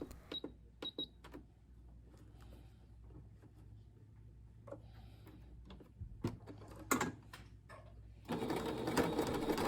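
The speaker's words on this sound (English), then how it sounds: "Just sew across the edge and make sure your presser foot doesn't get caught in the folds." A sewing machine runs a long basting stitch across a folded fabric edge for a kitchen scarf, quiet rapid clatter in short bursts with pauses and small handling clicks between, ending in a louder sustained run.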